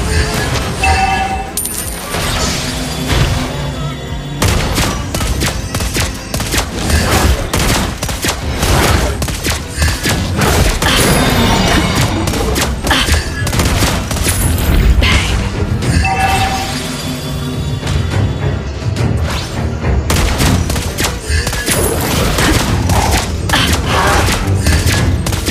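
Lesley's gunshots in the Mobile Legends video game ring out in dense, continuous bursts of firing and booms, mixed with loud game effects and music throughout.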